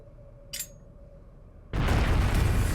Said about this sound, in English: What? A bomb?